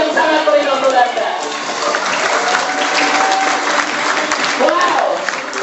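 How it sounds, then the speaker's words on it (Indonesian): Indoor auditorium audience at a presentation event in Jakarta claps and cheers in a dense, sustained wash of applause that fills the space, with a voice faintly audible through it. "Beri aplaus yang sangat meriah untuk Anda."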